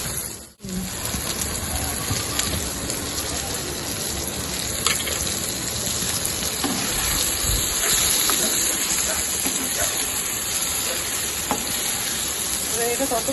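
A thick long-bean (borboti) bharta mash is stirred in a hot kadai, giving a continuous close sizzle and hiss with scraping and soft wet stirring sounds, and no clear talking.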